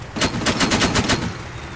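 Rapid gunfire from the military video game ARMA 3 rings out in a loud, tight string of about eight shots over under two seconds, with no talking.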